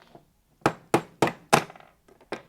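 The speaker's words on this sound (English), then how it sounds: "pound out those bolts" Five sharp hammer blows ring out one after another as bolts are pounded from the clamp head brackets of a Silver Press Micro screen printing press, each strike a hard metallic thunk followed by a brief decay, then a final lighter tap.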